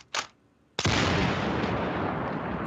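A loud gunfire sound effect plays alone: a single short crack, then a heavy burst of roaring fire that rolls on steadily and close until the clip ends.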